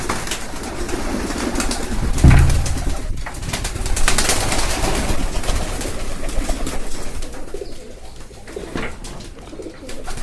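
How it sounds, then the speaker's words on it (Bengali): Pet pigeons coo in their loft, with soft repeated throaty calls heard close by against rustling and other bird sounds, and no one speaking. "আমার পোষা কবুতরগুলো তো চলুন যাওয়া যাক কবুতরের ঘরে"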